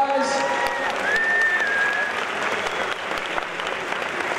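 Crowd applause for the Blizzard jury at the Gamescom 2014 costume contest, a dense, steady wash of clapping from a large audience with a whistle rising over it and some voices mixed in.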